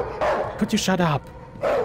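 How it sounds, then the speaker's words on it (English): Loud, close dog barks and yips in a horror video game, a few sharp bursts while a person speaks over them. "Reading is hard if you hear a dog barking into your ears that loudly."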